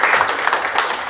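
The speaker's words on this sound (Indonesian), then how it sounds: "Beri tepuk tangan dulu untuk semua yang sudah ada di depan." Brief burst of audience applause at a press conference, a dense, fairly loud wash of clapping from many hands.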